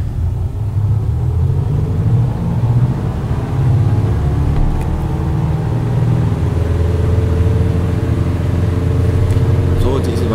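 Steady, loud engine roar from a small aerobatic plane accelerating for takeoff in Microsoft Flight, a constant droning hum with rising tones and no breaks across the stretch.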